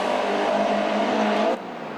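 A Caterham Superlight race car engine at Oulton Park in 2001, a loud steady roar with a sustained tone close by, cutting off abruptly near the end as the car passes.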